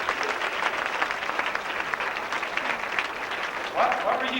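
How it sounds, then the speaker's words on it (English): Audience applause at a 1991 hypnosis comedy show for a volunteer, a steady wash of many hands clapping at moderate level throughout, with a slight swell near the end. "Give him a round of applause for his volunteer."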